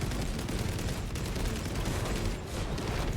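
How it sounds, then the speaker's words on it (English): Bolter fire from a Space Marine in the video game Space Marine 2, a dense, continuous barrage of loud rapid shots with no pauses, heavy and close throughout. "just fire the bolter"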